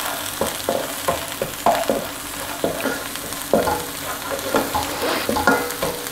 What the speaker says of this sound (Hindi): अब हम इसमें ऐड करेंगे लहसुन और अदरक का पेस्ट और उसको हल्का सा भून लेंगे।